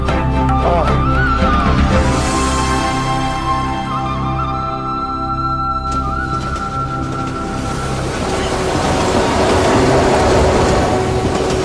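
An Indian railway train pulls out of a station, wheels rumbling and clacking loudly over the rails with metallic squeals and a horn-like tone, continuous and close throughout.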